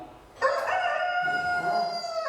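A rooster crows one long, loud, close cock-a-doodle-doo that rises sharply and holds steady to the end.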